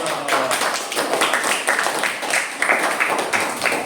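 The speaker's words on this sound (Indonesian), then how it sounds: "Oke, beri tepuk tangan dulu." Classroom applause from students during a lesson, a dense patter of many hands clapping together, fairly close and steady for a few seconds with faint voices mixed in.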